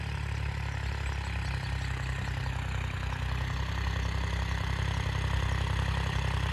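A New Holland TT3.50 tractor engine labours steadily in wet soil, a continuous low, heavy drone that holds even and loud throughout with no talk over it.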